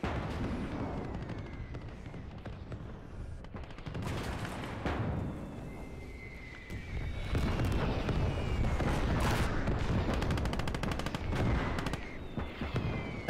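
Machine gun fire in the World War II game Gates of Hell rattles in bursts under booming distant explosions, with a dense rumbling barrage that grows heavier in the second half.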